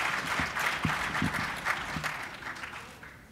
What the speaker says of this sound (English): come on, give him a good hand clap out for him